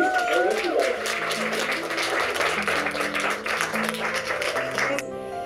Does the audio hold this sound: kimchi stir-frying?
no